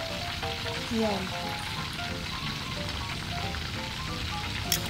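Pork leg deep-frying in hot oil for crispy pata, a steady dense sizzle and crackle filling the whole stretch, with a voice speaking briefly over it.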